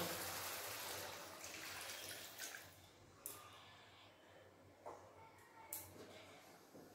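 Water poured into a pan of tomato, cumin and ginger masala for a fish curry: a quiet, hissing splash at first that settles into soft sizzling with a few small clinks and drips.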